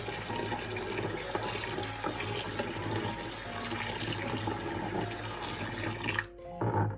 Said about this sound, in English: Before we drain them, we are going to rinse them with cold water.